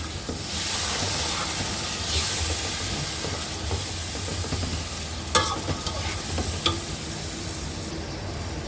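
Beef pulao masala fries in a pot with a loud, steady sizzle and hiss, while a spoon stirs and scrapes, adding a few sharp metallic clanks near the end.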